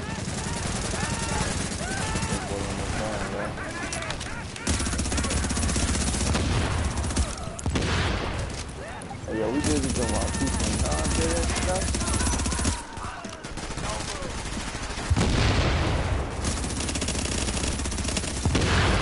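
Sustained automatic gunfire and bursts of shooting from a combat firefight in The Division, loud and continuous throughout, with someone talking over the shots.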